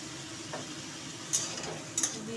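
Vegetable stalks stirred in a pan with turmeric and salt make a faint, even frying hiss, broken by two light clicks of a utensil against the pan.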